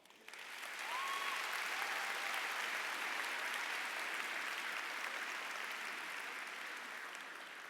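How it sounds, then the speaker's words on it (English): Sustained applause from a large commencement audience at a 2019 university spring graduation ceremony, a dense, steady wash of clapping that swells in quickly and holds strong throughout, slowly easing near the end. "I think all of you owe them a round of applause."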